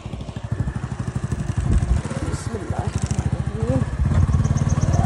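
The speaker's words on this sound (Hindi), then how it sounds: "बाइक पे बैठते हैं।" A motorcycle ridden along a village road chugs with a steady, rapid engine putter close to the microphone, and a faint voice is heard now and then over it.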